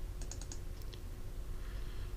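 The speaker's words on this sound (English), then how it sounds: "Press the F1 key on your keyboard and then go into Applications." A few quick keystrokes clatter on a computer keyboard, a short burst of faint clicks early on followed by a couple more taps, over a low background hum.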